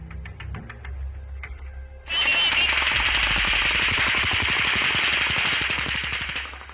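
Gunfire from the Las Vegas mass shooting, fired from the Mandalay Bay onto a concert venue. A few distant pops give way to a long, sustained burst of rapid automatic fire that echoes across the open grounds.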